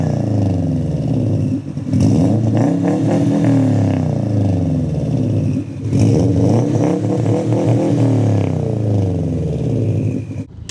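A Subaru WRX STI with a catted downpipe exhaust revs loudly and close up, its deep engine note sweeping up and falling back in two long pulls with a steady idle between.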